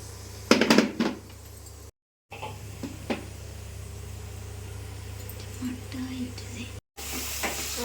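Onions fry in oil in a pan with a low, continuous sizzle. A few louder clatters of stirring come at the start, and quiet, whispery sounds occur in between, heard close with no clear speech.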